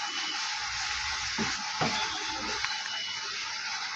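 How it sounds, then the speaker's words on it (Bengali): Spice masala of cumin powder, coriander powder and a little sugar sizzles steadily in a pan for cauliflower curry, a constant close frying hiss with a few soft stirring scrapes partway through. "আমার মশলাটা ভালো করে কষানো হয়ে গেছে"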